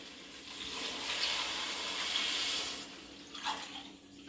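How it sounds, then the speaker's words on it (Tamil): Water pours steadily into a cooking pot for ven pongal, a rice and lentil dish, with a continuous close rushing splash that tapers off near the end. "இன்னும் வந்து ஒரு மூணு டம்ளர் எக்ஸ்ட்ரா வந்து நம்ம தண்ணி சேர்க்கலாம்"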